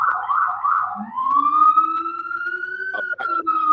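An emergency-vehicle siren wails close and loud, a pulsing yelp giving way to a long, steady rising tone, heard during a community board land use committee meeting on a video call.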